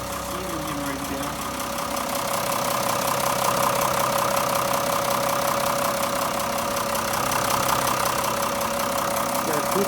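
A Mitsubishi Fighter truck with a 6D14 diesel engine idles, a steady, even rumble with a regular knocking pulse that holds constant for the full stretch, with some talking over it.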